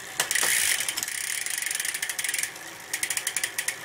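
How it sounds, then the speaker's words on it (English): A bicycle drivetrain with a SRAM Force Yaw 22 front derailleur runs on the small ring and small cog, giving a close, rapid ticking ratchet-like whir that pauses briefly and resumes. "every once in a while, the chain will bump the inside of the cage on the front"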